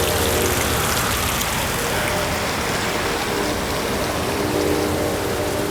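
Water runs down a rain chain into a waterfall grotto and splashes off the rocks below, a dense, steady, close rushing spatter with no pauses.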